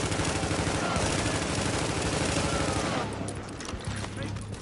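An automated turret in the video game The Division fires rapid, continuous bursts of gunfire against enemies, loud and dense, then thinning out into scattered shots near the end.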